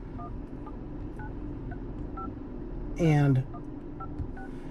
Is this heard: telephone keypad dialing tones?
yes